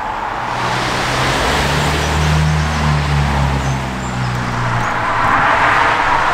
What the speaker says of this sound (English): apologies for the traffic so we are on a main road